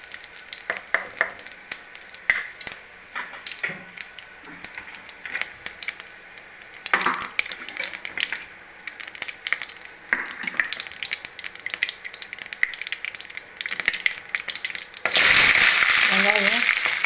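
Mustard seeds and cumin sizzle and pop in hot oil for a Tamil drumstick-leaf kuzhambu, with scattered crackles and taps, a louder sizzling burst near the end, and talk at times.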